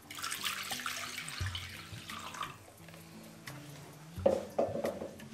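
Very warm water, two cups, poured into a mixing bowl already holding salt for rustic artisan bread, a steady close splashing stream with a brief louder burst near the end.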